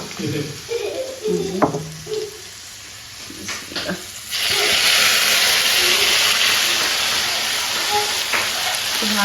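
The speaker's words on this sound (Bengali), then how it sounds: "এই যে মাংসটা ভালো হয়ে গেছে এখন আমি পেস্টটা দিয়ে দেবো" Meat frying in a pan, a few stirring scrapes and soft sizzles, then a sudden loud, steady hiss as spice paste hits the hot oil, with brief speech at the start.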